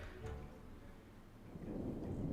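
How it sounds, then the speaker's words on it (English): Thunder in The Sims 4, a low distant rumble over light rain that swells into a fuller roll toward the end, fairly faint overall. "And now there's thunder."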